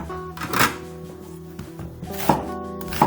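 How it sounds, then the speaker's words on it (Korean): Three firm knife chops through an onion on a cutting board, spaced unevenly, over a low background hum. "먼저 양파는 한 개 정도 그냥 크게 썰어주세요."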